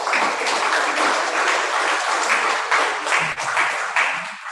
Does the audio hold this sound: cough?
no